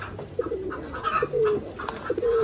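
Frizzle pigeons coo softly and repeatedly at close range, several short throaty calls in quick succession against a quiet background.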